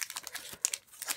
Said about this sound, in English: These packs are so terrible to open.